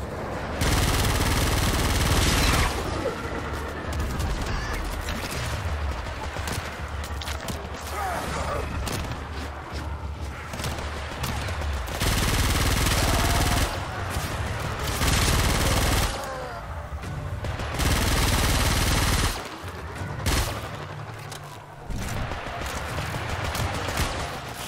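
Rapid weapon fire against enemies in Warframe, heard as loud, dense bursts of shooting with mechanical clatter, repeating in stretches separated by short pauses.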